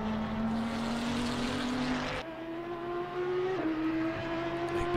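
Audi GT3 race car, number 47, lapping the Nordschleife in a racing game: a loud, steady engine drone rising in pitch, with sharp shifts near 2.2 and 3.6 seconds, among other engine noise.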